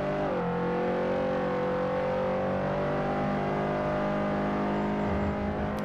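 A slow car's engine drones steadily in Forza Motorsport 4, held in third gear during a race, a sustained loud hum with gently rising pitch and faint whir, no voices.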